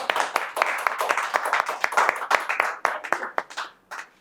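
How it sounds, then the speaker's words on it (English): Audience at a shop talk gives a round of applause, with dense, close hand clapping that holds steady for several seconds and then thins out into a few scattered claps at the end. "a round of applause"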